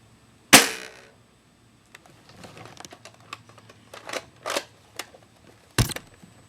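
A snow camo Longshot dart blaster fires with one sharp, loud snap, followed by a run of lighter mechanical clicks and clacks from priming, then a second sharp shot near the end.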